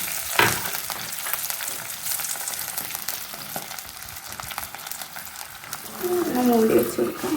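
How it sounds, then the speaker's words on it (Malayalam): Sautéed onions sizzle steadily in a pan for moringa leaf curry, a hissing broadband frying noise throughout, swelling louder near the end as water goes in and a person speaks. "ഉള്ളി നന്നായിട്ട് വഴണ്ടി വന്നിട്ടുണ്ടെങ്കിൽ നമുക്കിതിലേക്ക് വെള്ളം ചേർത്ത് കൊടുക്കാം."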